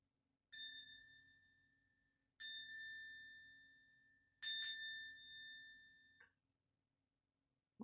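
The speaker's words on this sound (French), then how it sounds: "quand vous entendrez le son de la petite cloche" A small bell, struck three times at a slow, even pace, gives a bright, clear ring each time that lingers and slowly fades, faint and alone against silence in a relaxation session.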